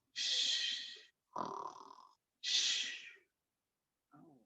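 Voices imitate snoring in three long, rasping breaths with short pauses between them, followed by a brief fainter snort at the end.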